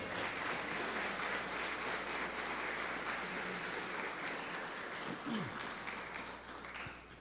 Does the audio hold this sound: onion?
no